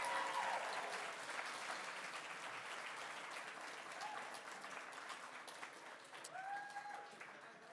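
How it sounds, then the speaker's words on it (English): A convention mainstage audience at a cirque-style show keeps clapping for a performer, a sustained, even roar of applause throughout with a few faint tonal squeaks over it. "Please keep the applause going for her"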